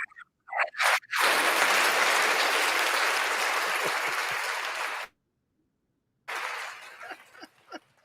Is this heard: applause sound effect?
yes